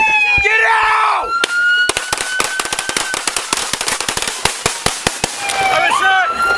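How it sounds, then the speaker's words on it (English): Gunshots fired from inside an Impala during a police shooting, a rapid volley of sharp cracks over several seconds amid shouting voices and screams before and after. "see and hear Martin fire a round from inside the Impala and the officer fall to the ground after being hit"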